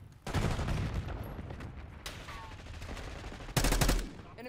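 Gunfire from a marksman rifle in Black Ops 6 breaks into loud, sustained shooting with a busy game soundscape underneath, eases to a lower mix, then another sharp, heavy burst lands near the end.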